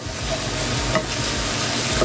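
Onion sizzling in a hot pan while a pan sauce is being made, a loud continuous close frying hiss with a faint clink near the middle, no talking.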